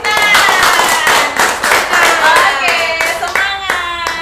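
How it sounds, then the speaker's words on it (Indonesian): A group claps hands at a school reunion committee gathering, sharp close claps in a lively rhythm with a brief spoken word at the start and some cheerful voices mixed in. "Oke, tepuk tangan."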